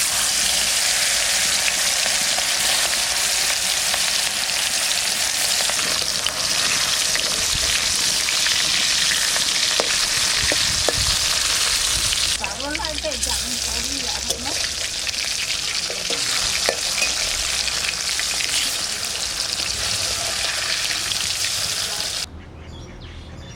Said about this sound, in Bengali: সরষের তেল দিয়ে দেবো, হালকা করে ইলিশ মাছটা ভেজে নেব।